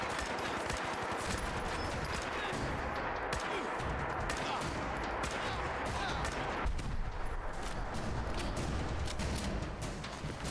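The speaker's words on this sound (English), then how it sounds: "A Gatling laser?" Gatling laser in Fallout 4 firing a sustained rapid stream of crackling shots, dense and continuous at moderate loudness throughout, with a brief voice over it.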